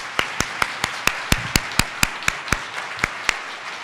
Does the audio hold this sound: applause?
yes